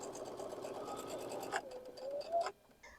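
Domestic sewing machine stitching pieced quilt blocks together in pairs, a steady buzzing whir that runs for about a second and a half, then slows into shorter bursts before stopping, with a faint hum left near the end.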